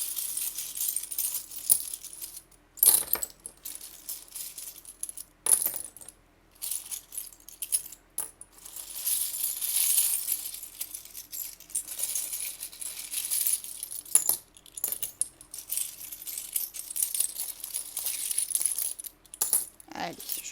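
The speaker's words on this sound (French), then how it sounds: "Je laisse tomber les coquillages. J'en prends aussi quelques-uns." Seashells being dropped for a divination reading, a series of light, crisp clattering clicks as they fall and tumble against each other, in scattered bursts with quiet gaps over a long stretch.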